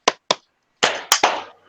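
Children clap their hands twice, with two crisp claps close together, a short pause, then a looser burst of uneven claps as the group responds together.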